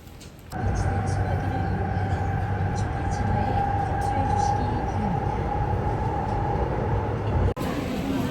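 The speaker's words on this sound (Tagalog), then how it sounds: "So, kakababa lang namin ng train." A subway train in Seoul rumbles steadily with a sustained low roar and a faint tonal whine, constant and close from inside the car, ending in a brief jolt near the end.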